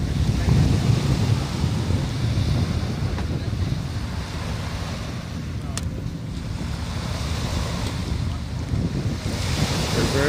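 Strong wind buffets the microphone while waves wash and splash in Nassau Harbor, a continuous loud roar of surf and gusts without a break.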